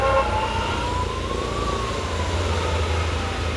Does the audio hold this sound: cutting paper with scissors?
no